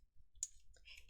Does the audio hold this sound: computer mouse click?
yes